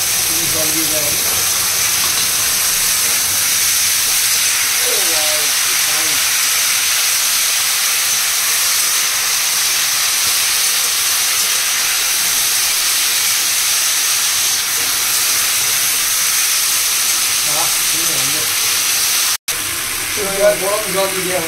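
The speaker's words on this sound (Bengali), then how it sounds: "গরম জল দিয়ে দেওয়া হচ্ছে।" Hot water poured into a hot pan while cooking catla fish jhol, giving a steady sizzling hiss that fills the whole stretch, with faint kitchen clatter and a brief dropout near the end.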